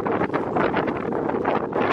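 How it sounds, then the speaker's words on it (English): Strong wind on Mount Ijen volcano buffets the microphone in continuous roaring gusts, loud and close, with no other sounds. "the winds are picking up"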